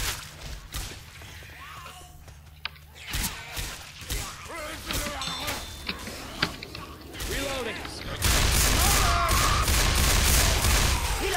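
Gunfire in the Left 4 Dead 2 Parish campaign: bursts of shots and impacts throughout, growing into a loud, dense barrage near the end, with voices talking over it.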